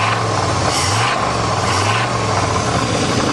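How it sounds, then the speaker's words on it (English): A 1988 Chevy truck's V8 running with rod and crank knock on a farm, a loud, steady, rough engine drone with a throbbing low pulse throughout and no talk. "This thing definitely has some rod knock and crank knock."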